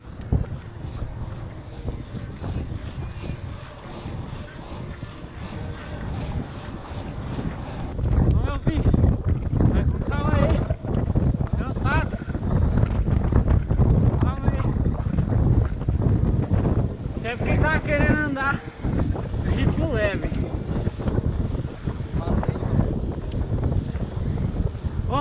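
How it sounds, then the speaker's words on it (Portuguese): Strong wind buffets the microphone on a mountain bike ride, a steady low roar that grows stronger partway through, with voices talking intermittently. "O vento tá muito forte."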